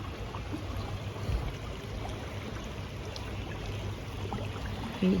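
The Clinton River flows strongly, a steady broadband rush of moving water heard at close range with no pauses.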